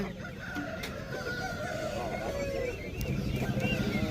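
Roosters and hens at an Aseel chicken market call over a busy crowd, with a crow rising above steady background chatter and clucking.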